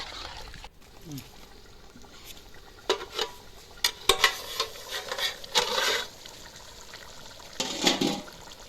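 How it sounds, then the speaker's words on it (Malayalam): Chicken parts and liver bubbling as they boil in a covered pot, with uneven watery gurgles and splashy bursts that swell and fade, moderately loud and close, while a voice is faintly present underneath. "നന്നായി തിളച്ച് വരുന്നുണ്ട്"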